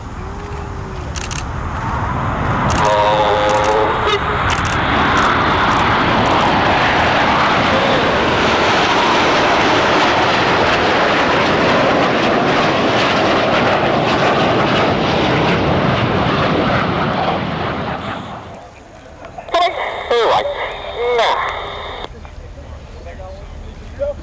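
Royal Air Force Red Arrows jets roar overhead in a formation display at RIAT 2024, a loud sustained engine rush that swells and then fades, with an announcer talking over it and camera clicks.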